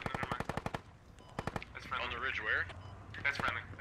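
Rapid bursts of 240 and 249 machine gun fire in a video game, sharp repeated rattling volleys near and loud, broken by pauses, with a voice talking over the later shooting.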